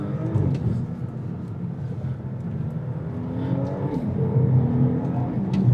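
A 2025 Audi S5 with quattro and a dual-clutch gearbox accelerates in first gear, a steady, somewhat muffled engine hum heard from inside the cabin, with rising tones as revs climb.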